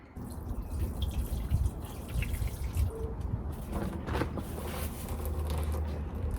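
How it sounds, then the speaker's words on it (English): Water trickles and drips faintly from close by as a plant cutting is watered during spring garden propagating, with a low background rumble and no talking. "I'm just gonna water this now."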